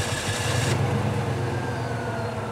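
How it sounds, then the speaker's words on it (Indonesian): A car engine cranks and turns over while being started after trouble with a weak battery, a short buzzing starter burst followed by a steady low engine hum, close and loud with no speech. "jadi ini coba ya kita starter lagi"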